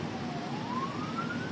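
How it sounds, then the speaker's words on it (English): Emergency vehicle sirens wail in the distance during a massive storm with fires and downed trees reported, one rising tone gliding steadily upward over a constant roar of wind and rain. "You can hear the constant sirens in the background."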